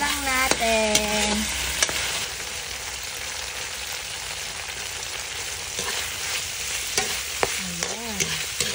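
Chopsuey being stirred in a hot pan, a steady scraping and tossing over continuous sizzling and frying, with a few sharper clinks of the utensil against the pan near the start and end.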